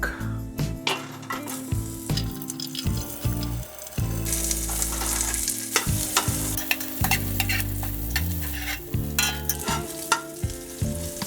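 Garlic and spices fry and sizzle for a desi-style goat curry over slow heat, with a spoon stirring and scraping the pan in steady bursts; the sizzle is loud and close, and no one speaks.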